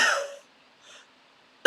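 A single sharp, strong cough demonstrated for infant choking lands near the end, after a short breathy sound and a faint breath in near silence.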